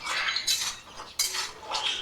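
Cashew nuts being roasted in a pan, with a metal spoon scraping and clinking against the pan in a few bright bursts, close and clear, with no talking.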